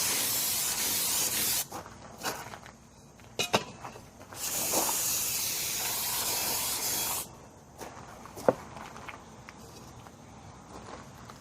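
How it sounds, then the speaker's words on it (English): A hose sprays off an air filter from a 1963 GM PD4106 bus conversion in long hissing bursts broken by short blasts and pauses, close and loud with no talking. "Let's spray this off."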